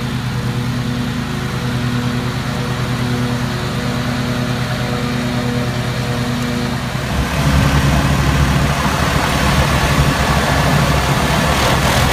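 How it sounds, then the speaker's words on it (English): A John Deere L120 riding mower with new blades and a clean deck runs close by, a steady loud engine drone that turns into a denser whirring, vacuum-like rush partway through. "You sure can notice when you got new blades on it and the deck is clean, how you kind of get a whirring noise, like a vacuuming noise from the lift."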